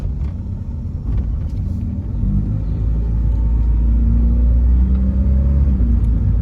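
An automatic Honda City sedan is driven along a road, and its engine and tyres make a loud, steady rumble from inside the cabin that grows slightly fuller partway through.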